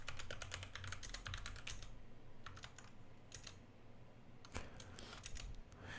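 Quiet, rapid clicks of a computer keyboard being typed on in bursts of keystrokes separated by short pauses, close and faint over a low hum, with no talking.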